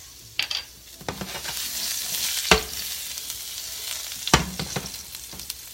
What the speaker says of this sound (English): We're just gonna put a teaspoon of garlic in first